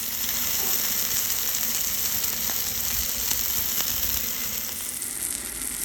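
Ribeye steak searing on a Blackstone flat-top griddle, a loud, dense, continuous sizzle with faint crackles, close up and without talking.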